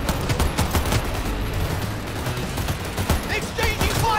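Gunfire exchange in Cyberpunk 2077, scattered overlapping shots of varying loudness over busy game ambience, with some voices mixed in.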